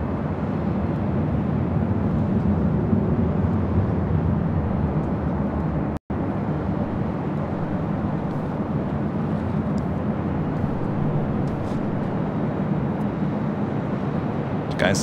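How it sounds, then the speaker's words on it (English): A WestJet Boeing 737-800 arriving from Calgary at LAX produces a broad, steady jet roar, loud and continuous throughout with a momentary dropout, with a voice faintly underneath. "WestJet flight 1510 coming in from Calgary, 737-800."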